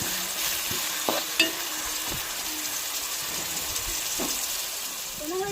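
Carrots and green beans sautéing in oil with a little salt give a steady close sizzle, broken by a few clicks and scrapes of stirring.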